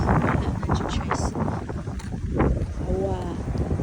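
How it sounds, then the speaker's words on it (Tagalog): Strong wind buffeting the microphone outdoors, gusty low roaring bursts, loud and close, while a person talks over it. "Perting hangin na today guys."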